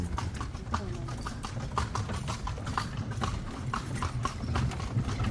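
Shod horse pulling a carriage around a temple in Lampang, Thailand, its hooves clip-clopping in a quick steady rhythm on pavement, close and continuous over road rumble, with people talking quietly alongside.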